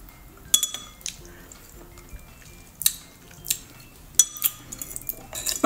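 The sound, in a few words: spoon stirring Milo and Coke in a glass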